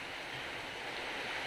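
Heavy rain at a village in the Sundarbans, a dense even broadband hiss of downpour, steady and fairly faint throughout without any voices.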